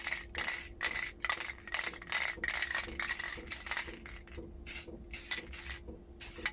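Short, repeated hissing bursts of spray paint as a second coat goes onto Milbro Diana series 70 model 77 air rifle parts in a doorway, with brief pauses between each fairly close, steady spray.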